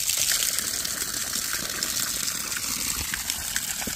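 Cold, cloudy well water gushes out of a well pump system being flushed: a steady, close, full rushing spray that holds without letup and carries no talk.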